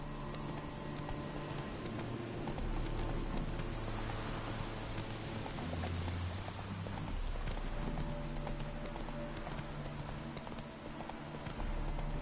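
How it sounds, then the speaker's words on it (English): Steady clip-clop of horse hooves at a brisk trot, continuous and close, with a soft rainy hiss in the background, from the video game The Witcher 3. "I can't full sprint on my horse."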